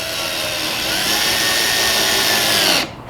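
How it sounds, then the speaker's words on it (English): A power drill whines steadily and loudly as it drives a hex cap screw into wood, self-tapping its threads, then stops abruptly near the end. "while I'm drilling this in, it should kind of self-tap"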